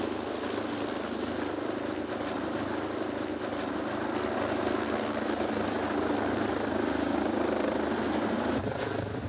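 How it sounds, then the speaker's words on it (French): A helicopter's rotor thumps steadily and continuously during a police training exercise, a dense, even drone that holds at a constant level throughout. "un hélicoptère récupère chaque binôme pour les emmener sur la zone d'intervention"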